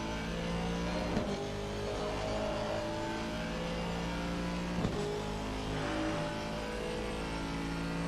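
An Aston Martin race car at Silverstone in Assetto Corsa Competizione revs and accelerates in a steady, close, throaty drone, with sharp gear-change blips at about 1 and 5 seconds.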